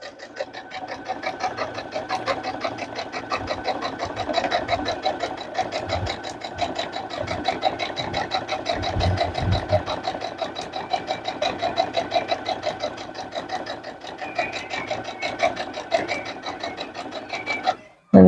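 A sewing machine stitching a fabric potholder runs in a steady, rapid mechanical chatter for the whole stretch, close and continuous, with a faint voice talking under it and a brief stop at the end.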